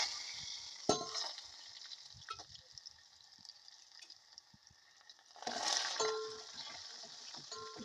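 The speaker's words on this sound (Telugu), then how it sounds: "ఇప్పుడు కొద్దిగా ఆయిల్ వేడి చేసి అందులో ఆవాలు, జీలకర్ర, ఎండుమిరపకాయలు వేయాలండి." Mustard seeds, cumin and dried chillies frying in hot oil, giving a faint steady sizzle with occasional stirring clinks and a brief louder burst of spattering, no talk.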